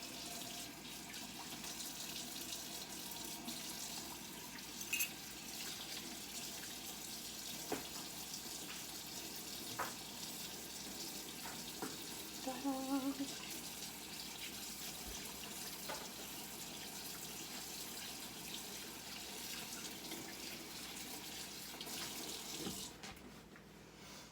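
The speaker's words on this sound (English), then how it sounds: "I'm going to wash my hands off" Tap water runs steadily from a faucet into a sink as hands are washed during home cookie baking, a continuous close hiss holding for the whole stretch with a few small clinks and splashes, no talking.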